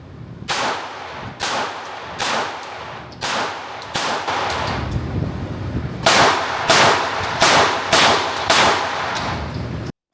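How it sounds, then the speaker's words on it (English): Pistol shots from a Staccato XC and an AlphaFoxtrot Romulus fired in quick double taps, about a dozen loud, close cracks in spaced pairs with ringing between them. "I'm gonna try to do double taps on the left for the Romulus and double double taps on the right for the staccato."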